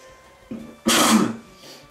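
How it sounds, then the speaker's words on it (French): A single sharp sneeze, close and loud, preceded by a short sharp intake of breath, in a quiet room during a game commentary. "Excusez-moi, j'éternue."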